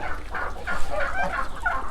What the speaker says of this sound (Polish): ptaki robią tutaj jeden wielki harmider